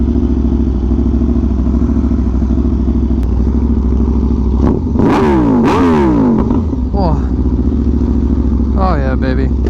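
An Aprilia RSV4 1100 Factory V4 superbike idles loudly up close, then blips through several sharp, rising revs that fall away quickly, ending with another brief rev burst, while a voice talks over it.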